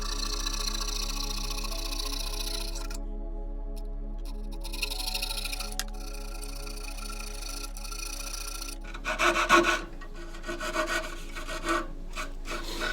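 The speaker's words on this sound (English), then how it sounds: "I can take a little rasp or a file and smooth this up" Wood trim is smoothed with a small rasp or file, giving quiet, repeated rubbing and scraping strokes close up, with louder, choppier strokes toward the end.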